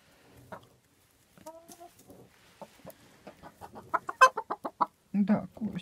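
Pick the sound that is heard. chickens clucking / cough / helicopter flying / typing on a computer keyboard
chickens clucking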